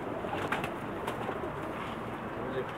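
Pakistani pigeons cooing steadily nearby, soft overlapping calls over a continuous low murmur of room ambience, with faint voices in the background.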